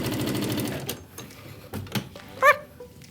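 A sewing machine stitches a quilt block in a rapid mechanical rattle for about a second, then stops, leaving a few soft clicks and handling knocks.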